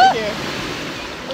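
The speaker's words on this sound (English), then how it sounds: "We're at the ocean." Ocean surf at Myrtle Beach washes in as a steady broadband roar, close and fairly loud, with a brief voice at the start.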